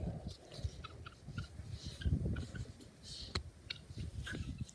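Guinea fowl in a backyard making a rapid, scratchy run of chattering, clicking calls that carries through the whole stretch at moderate distance, with no talk.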